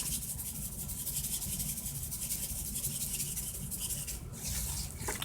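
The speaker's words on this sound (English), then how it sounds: "Rub all that good seasoning in." Hands rubbing seasoning into raw meat, a steady close soft rubbing and scrubbing that runs continuously at a constant level with no talk.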